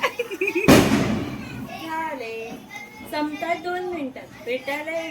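A sharp Diwali firecracker burst cracks out loudly near the start, followed by children and adults talking.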